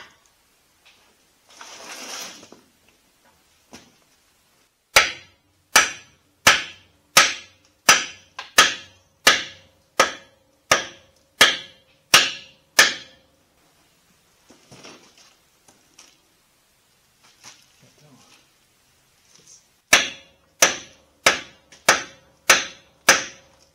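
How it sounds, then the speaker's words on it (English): Hammer blows ring out during piston sleeve removal on an Allis Chalmers WD45 tractor: a run of about eight sharp, evenly spaced metallic strikes, a pause with faint shuffling, then another rapid series of six or so. "hammer time"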